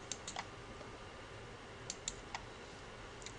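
Light, quick keystrokes on a computer keyboard come in small clusters of soft clicks with short pauses between them, quiet and close, with no voices.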